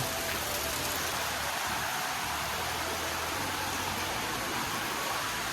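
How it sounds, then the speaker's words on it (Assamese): Steady rain falls in a constant broad hiss, with a low hum running beneath it. "ভগৱান এতিয়াতো কমাই দিয়া অলপ বৰষুণটো"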